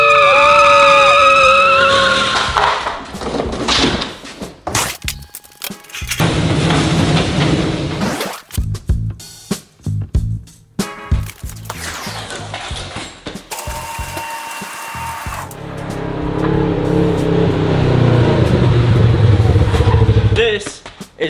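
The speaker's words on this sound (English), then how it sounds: "We might have our first burnout." Car doing a burnout in the lot of a newly bought shop, loud tire skidding and engine roar in bursts with gaps, under excited shouting and talk throughout.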